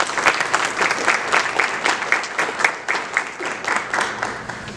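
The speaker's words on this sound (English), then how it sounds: "Let's give Carter a round of applause." A room full of people at a Scott County school board meeting gives a steady round of applause, with dense, continuous clapping close by for the whole stretch and no voices over it.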